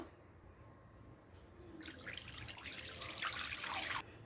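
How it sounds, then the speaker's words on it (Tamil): Water is poured steadily into a pot for a couple of seconds, a broad splashing pour that grows slightly louder before stopping abruptly. "இதில் 5 டம்ளர் தண்ணி விட போகிறேன்."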